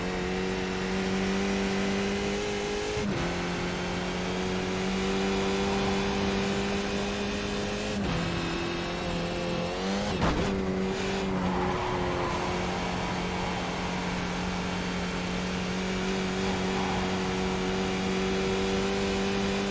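Race car engine in the iRacing sim, a sustained droning whine that steps up and down through gear changes, with a short burst of harsher noise midway, running alone at a steady level throughout.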